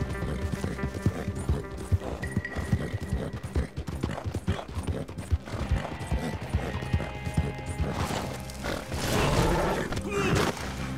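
Horse hooves clip-clop steadily in the video game Red Dead Online, a rhythmic, fairly loud run of hoofbeats with occasional whinnies and game ambience, swelling into a louder rush near the end.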